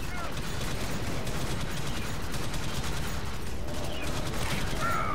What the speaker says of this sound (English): Friendly fire!